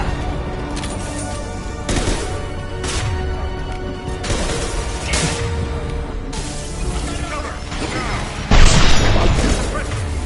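Grenade blasts in the Mass Effect video game, several loud booming bursts amid ongoing combat noise, the heaviest one near the end, with battle chatter mixed in.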